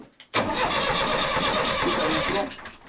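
An engine cranks briefly, catches with a loud burst and settles into a steady, close idle that runs almost three seconds, then cuts off near the end.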